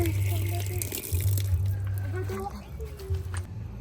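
Mulberries being washed under a running tap, with a steady splashing stream of water and a low hum of flow, while people talk over it.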